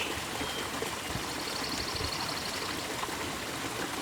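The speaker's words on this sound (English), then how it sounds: "The song of birds echoes, mingling with the gentle splashing of a nearby waterfall." Gentle splashing and steady trickling of a nearby forest waterfall, a continuous soft wash of water with no voices.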